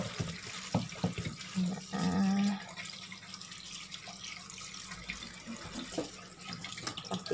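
Freshly picked moringa leaves are rinsed under a running tap into a sink, a steady close splashing and trickling stream that surges briefly louder as the leaves are pushed under the flow.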